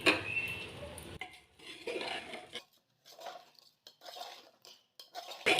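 Half a kilo of rice being stirred in a pressure cooker over low flame: metal spoon scrapes and clinks against the pot in short bursts separated by pauses.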